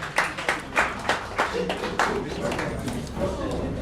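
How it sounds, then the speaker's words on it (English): An audience at a Rotary club 121st anniversary gathering claps for the host: a handful of sharp, distinct claps at first, thickening into a loose, moderately loud patter of hands. "I think we need to give a round of applause to our host."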